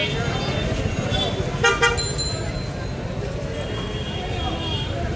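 Car horns toot repeatedly in a jammed Dhaka street, a couple of sharp nearby blasts over steady traffic rumble and crowd babble, with voices talking throughout.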